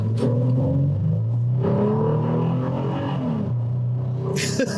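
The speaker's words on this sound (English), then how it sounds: "Let's just try a quick acceleration from a standstill here." A 2019 Toyota 4Runner TRD Pro pulls away from a standstill, its engine rising in a steady rev with audible gear shifts, loud and close from inside the cabin.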